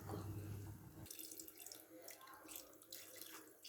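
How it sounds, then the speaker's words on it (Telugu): Water poured from a vessel into a pot of mango mutton curry, a continuous splashing pour heard up close and fairly quiet, with no talking. "వాటర్ పోస్తానండి."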